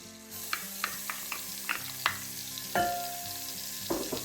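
Finely chopped small shallot sweating in melted butter in a pan, a gentle sizzle punctuated by several spoon taps and stirring clatters, close and alone.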